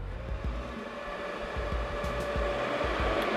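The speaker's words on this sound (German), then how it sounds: "jetzt hat es sich praktisch der zweite Ventilator eingeschaltet" A forklift's second large electric cooling fan running, a steady loud whirring drone with a faint tonal hum, close and continuous without speech.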